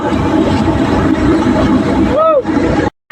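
A threshing machine runs in a farm field, separating pearl millet from its heads with a loud, steady rumbling drone. A brief voice is heard near the end, and the sound cuts out abruptly.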